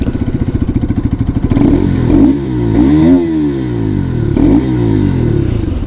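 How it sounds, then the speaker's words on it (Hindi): A Bajaj Pulsar RS200 motorcycle, 2025 model, revs its engine close by, with a steady idle thump rising into several throttle blips and falling back, the exhaust note loud and alone. "मैं आपको इसका एग्जॉस्ट नोट सुना देता हूँ कि भाई कैसी एग्जॉस्ट नोट आपको यहाँ पे मिल जाती है।"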